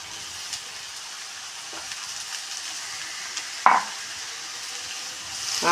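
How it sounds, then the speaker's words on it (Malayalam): Boiled raw papaya tipped into a hot pan and stirred, a low sizzle under sharp spatula scrapes and one loud clatter midway, close by with no voices. "നമ്മൾ വേവിച്ച് വെച്ച പപ്പക്കായ ഞാൻ ഇതിലിടണു"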